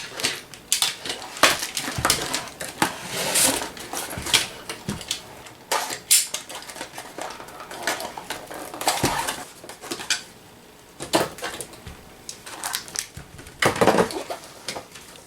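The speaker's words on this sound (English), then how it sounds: "Break out the blade and we're going to cut this thing open some more." A blade slices open plastic packaging around a Ghostbusters 1984 Neutrona Wand toy, with irregular crinkling, scraping and tapping close by that carries on in uneven bursts throughout.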